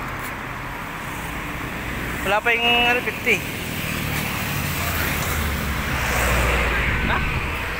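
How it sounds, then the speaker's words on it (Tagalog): Continuous traffic rumble on the C5 Extension, cars and heavier vehicles passing steadily, with someone briefly speaking over it partway through. "Wala na, traffic na oh."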